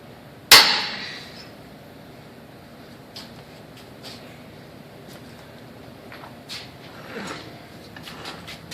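A Harbor Freight 1/2-inch extended handle ratchet (item 62332) snaps under a 500 foot-pound torque test, giving one sharp, loud crack that fades fast, then a quiet stretch with a few faint knocks.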